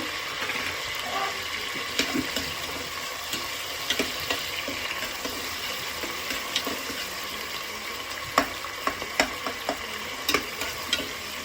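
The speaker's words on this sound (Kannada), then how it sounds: "ಟೊಮೆಟೊನು ಸ್ವಲ್ಪ ಚೆನ್ನಾಗಿ ಸಾಫ್ಟ್ ಆಗೋವರೆಗೂ ಸ್ವಲ್ಪ ಫ್ರೈ ಮಾಡ್ಕೊಬೇಕು" Tomato frying in a pan while being cooked down until soft for a Mandya-style green chicken biryani, with a steady quiet sizzle and occasional scraping stirs, sharper spoon knocks toward the end.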